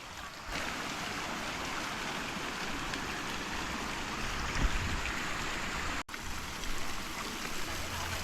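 Spring water pours steadily from a spout at a campsite, a constant close rushing splash with no breaks.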